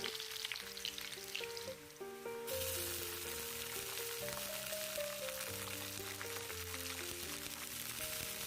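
Peas dropped into hot oil with browned onion in a pan, a steady loud sizzle and crackle of frying that swells after the addition, with a musical tune playing over it.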